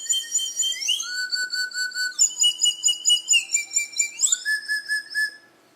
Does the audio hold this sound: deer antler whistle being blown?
yes